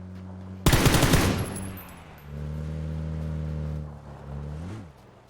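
A close, loud burst of automatic gunfire in PUBG during a drive-by from a vehicle, rattling for about a second, then a steady vehicle engine hum underneath that revs up briefly near the end.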